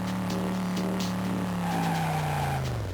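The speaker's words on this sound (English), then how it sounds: "the vehicle sound design sounded way better than I expected from the hardware" Engine drone and tire skidding from a car driven through city streets in a 3D Game Boy Advance racing game, a steady synthesized motor tone with a sustained screech that slides downward, loud and continuous, no talk.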